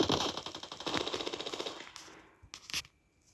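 Rapid bursts of automatic gunfire from the video game Standoff 2 crackle for about two seconds, then a few separate, sharper shots ring out before fading to near silence.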